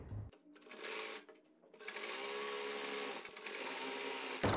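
Sewing machine running a half-inch seam on an umbrella palazzo, brief starts, then a steady close whir that stops abruptly near the end.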